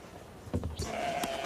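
A short, close lamb bleat rises out of faint background noise, followed by a brief higher cry; no talking.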